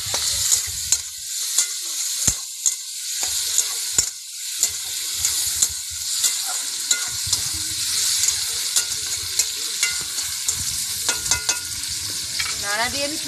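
Tomatoes fry in a pan and get stirred, a moderate sizzle broken by repeated sharp scrapes and taps of a spatula against the pan at an uneven pace.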